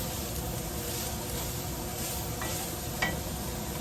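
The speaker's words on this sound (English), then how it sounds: "we're just going to let this cook and get those spices all heated up" Smoked paprika and spices sizzle in a pot, a steady soft crackling hiss throughout with a brief clink of a utensil near the end.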